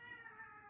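A female house cat meows in a short, close, clear call with a steady tone, heard alone without talk.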